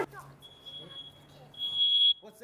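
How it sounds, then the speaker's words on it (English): A smoke-style fire alarm beeps as a high, steady electronic tone during a Fire Prevention Week visit from a fire department, holding on, then swelling louder near the end over faint background voices. "What's that noise? Fire alarm."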